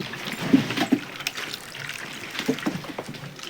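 Water runs from a pipe into a cow's trough, a soft close trickle and splash with gurgling bursts, no talk.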